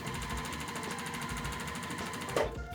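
A sewing machine stitches two quilt rows together, running steadily and rapidly with an even mechanical rhythm, close and alone before a brief stop at the end.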